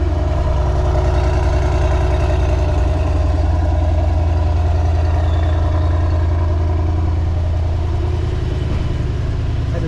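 A Mercedes-AMG GT63 S with factory exhaust idles after a raised-RPM start, a loud, steady, close rumble that holds without break and with no talk.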